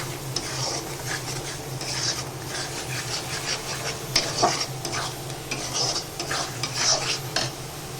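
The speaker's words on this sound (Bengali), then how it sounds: "এবার এটাকে ভালো করে কষাবো" Onion sautéing in a pan with turmeric, salt, cumin and tomato paste masala, a continuous sizzle under repeated scraping strokes of a spoon against the pan, with a few sharper clinks.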